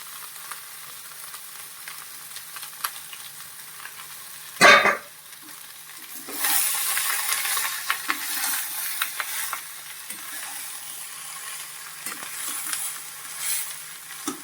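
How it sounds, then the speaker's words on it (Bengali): Drained rice, about 500 grams, goes into hot oil in a pan for basanti pulao, giving a sharp hiss as it lands, then a steady close sizzle with scraping stir strokes throughout, no voices. "জল ঝাড়ে রাখা চালটা দিয়ে দিচ্ছি।"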